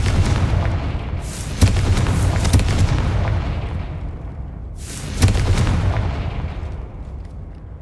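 Two Confringo blasting spell explosions in the video game Hogwarts Legacy, each a sharp booming burst followed by a long rumbling decay, a few seconds apart, with no talk.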